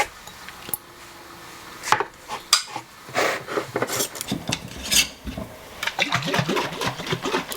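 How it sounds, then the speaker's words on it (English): Milk being stirred and mixed in a cup for coffee in a home kitchen, heard as irregular clinks and scraping strokes of a utensil against the cup that grow busier over several seconds. "Gotta mix up that milk."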